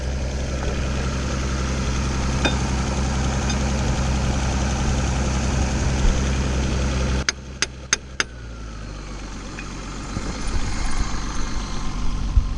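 A car engine idles with a steady low hum that abruptly drops in speed after four sharp metallic taps on the alternator, then gradually climbs back up over the next few seconds.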